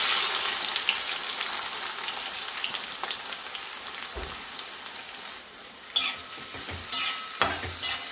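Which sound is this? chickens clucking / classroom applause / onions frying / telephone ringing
onions frying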